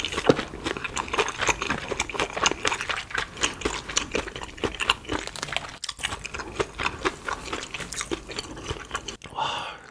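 Close-up bites and chewing of a crunchy Korean maple-syrup hotdog with cheese inside, with rapid crisp crunches and moist chewing, loud and near the microphone.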